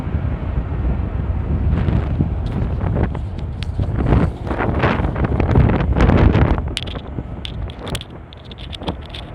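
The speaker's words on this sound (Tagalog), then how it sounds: "Sarap ng hangin." Strong wind buffets the microphone continuously among trees, roaring and gusting loudly throughout with rustling underneath and no pauses.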